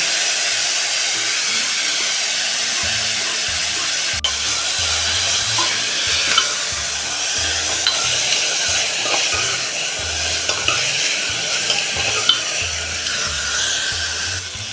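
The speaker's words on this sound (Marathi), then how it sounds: "कोबी आपण हा थोडासा मग परतून घेऊया" Cabbage sautéing in a pan with grated ginger, a steady sizzle and hiss with scraping stirs and low rhythmic thumps underneath, close and fairly loud with no speech.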